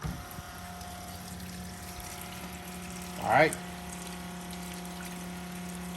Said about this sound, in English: Now let's fire the pump up.